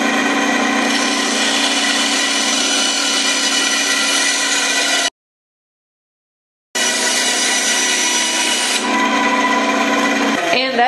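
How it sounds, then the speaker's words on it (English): A bandsaw cuts through wood for a treasure chest, a loud continuous whining rasp that breaks off for a moment of silence, then resumes and winds down near the end. "I'm just going to cut this out over on my bandsaw."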